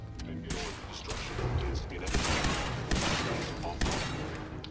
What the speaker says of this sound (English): I shot his arms off.